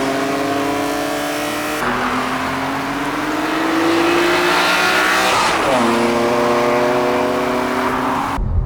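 A modified BMW Z4 M roadster with a CSL airbox, new wheels and brakes sweeps past in flybys, its engine note rising through the revs and then dropping with a sharp Doppler shift as it passes close and loud.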